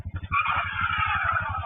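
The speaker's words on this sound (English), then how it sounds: "That's Trujillo's car screeching to a stop behind 16-year-old David Romero Jr." A car's tires screech loudly to a stop during a road-rage encounter, a sharp sustained squeal over a low rumbling engine, close and brief.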